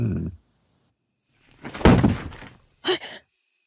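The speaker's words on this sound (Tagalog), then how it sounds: "nang makarinig kami ng malakas na kalabog sa aming bubungan" A loud, heavy thud on the roof with a rumbling tail, followed a moment later by a shorter, sharper knock, in an otherwise quiet room.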